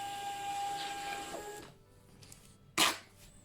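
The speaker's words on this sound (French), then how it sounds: "Vous n'avez qu'à imprimer et votre étiquette, vous voyez, sort directement." A label printer feeds out a shipping label: a soft mechanical whir fades away, then one short, sharp burst of printing or cutting noise follows, close and quiet, with no talking.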